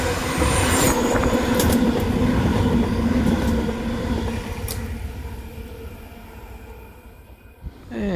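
Oscar electric train on a Kiama service passing through a South Coast Line station, a loud sustained rumble with clattering wheels and brief squeals that slowly fades as it moves away.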